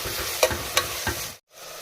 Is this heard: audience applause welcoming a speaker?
no